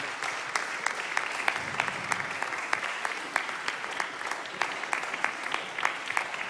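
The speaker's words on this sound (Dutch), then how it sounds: "Uw applaus is vanzelfsprekend ook een fantastische beloning." An audience applauds at a music prize concert in TivoliVredenburg, dense, even clapping from many hands sustained throughout without letup.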